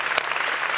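Studio audience applause on a late-night talk show, a dense, steady wash of clapping hands at moderate volume, continuous through the short moment.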